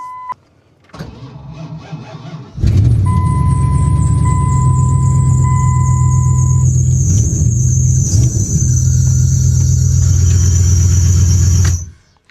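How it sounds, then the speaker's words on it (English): A 1953 Chevy engine cranks and fires up after sitting through winter, then runs loud and close with a steady idle rumble under a high, sustained squeal from a worn alternator, which carries on until the engine shuts off. "She did fire up, but I don't know if you heard that squealing noise or not."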